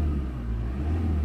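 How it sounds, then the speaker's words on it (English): A Ford Transit 2.4 TDCi diesel van with MAF sensor faults revs up from idle, a close, heavy low rumble that swells and eases over a brief moment. "The engine is idling now, so if I accelerate"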